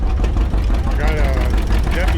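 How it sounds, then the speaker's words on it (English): A W450 diesel tractor engine idling close by, a steady low knocking throb, with someone talking over it. "W450 diesel here."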